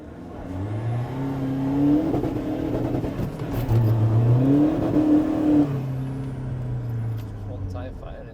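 A VW Amarok 2.0 BiTDI pickup with power upgrades accelerates hard on a private road in the cold, its engine note climbing through two gear pulls with a loud rising drone while people talk inside.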